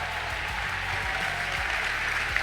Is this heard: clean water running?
no